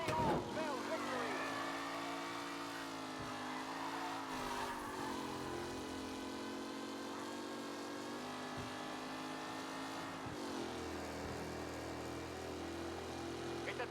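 Race cars from Mafia Definitive Edition roaring in a tight pack, a steady loud engine drone with shifting pitch that runs continuously under a commentator's voice.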